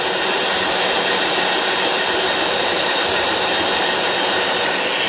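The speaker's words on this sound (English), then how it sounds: "P150 line boring machine works very good" A PF 175 line boring machine with power feed cuts metal in a loud, steady, close broadband roar that holds unchanged throughout, with no talk.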